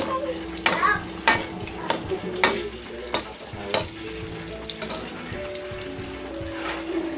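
Fishballs frying in a pan, a close, continuous sizzle broken by repeated sharp clinks and scrapes of a utensil stirring against the metal.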